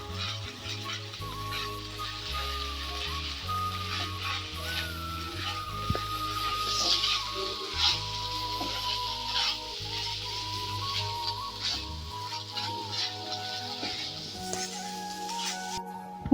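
A radish bori curry with coriander leaves sizzles in a pan while being stirred, a soft steady fry with scraping strokes and faint background hum, no talking.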